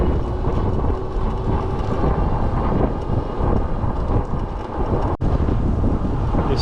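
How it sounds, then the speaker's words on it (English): Strong wind buffeting the microphone during an electric bike ride on a trip to Clearwater, a loud, continuous roaring rush with gusty fluctuations and no talk. "This wind is coming from the east across the state."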